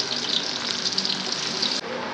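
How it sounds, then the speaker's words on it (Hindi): Onions fry in half a cup of hot oil in a kadai on the stove, a loud steady sizzle that runs without a break and then cuts off sharply near the end. "अभी हम ये प्याज फ्राई करेंगे इसके अंदर।"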